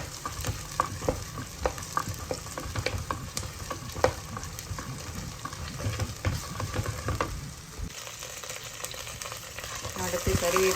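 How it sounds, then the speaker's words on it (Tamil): Green and dried chillies frying in hot oil in a pan for South Indian tomato curry, close and moderately loud: a steady crackling sizzle broken by repeated scrapes and clinks of stirring. "பச்சை மிளகா, 2 காஞ்ச மிளகா போட்டுக்கணும்."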